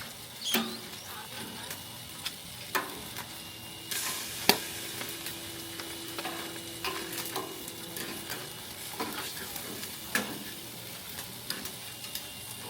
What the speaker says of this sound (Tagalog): So bali itong pork na lang niluluto ko, tsaka itong squids.